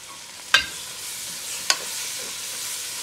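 Tomatoes are tipped into a pan of sautéing onions: two sharp clanks of a utensil against the pan ring out over a soft, steady sizzle.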